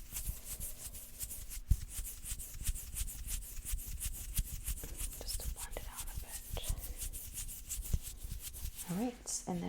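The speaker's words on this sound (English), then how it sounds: "I'm just going to rub that in with my fingers" Fingertips rub glittery serum into skin during close-up makeup application, a soft continuous brushing and friction texture with light taps and faint whispering.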